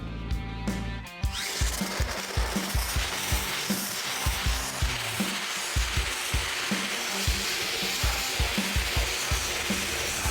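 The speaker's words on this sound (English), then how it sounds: "This Dustless blasting setup's a pretty versatile machine. Makes quick work of most surfaces" A dustless sandblasting rig strips the body of a 1974 Ford Bronco, giving a steady, loud hiss of blasting that runs through the whole stretch with rhythmic low thumps underneath and no talk.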